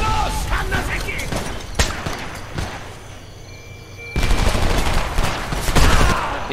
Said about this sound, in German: Unter schwerem Beschuss!